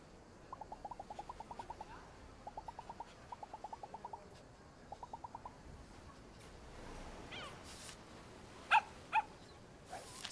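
A dog in the video game Alba: A Wildlife Adventure barks in quick repeated bursts of several yaps each, faint and somewhat distant, followed by a few louder isolated knocks.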